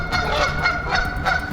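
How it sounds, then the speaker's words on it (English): Geese honk by a river in Saskatoon, Saskatchewan, a dense chorus of repeated calls over steady outdoor background noise, loud and continuous with no speech. "the geese are out in full force down by the river in Saskatoon and all over the province"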